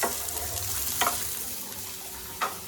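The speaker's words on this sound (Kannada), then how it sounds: "ಈಗ ಇದನ್ನು ಚೆನ್ನಾಗಿ ಸಾಟೆ ಮಾಡಬೇಕು until it's very crispy brown" Steady sizzling of ramen ingredients sautéing in a pan until crispy brown, with a couple of sharp scrapes or stirs of a utensil against the pan, close and alone without talk.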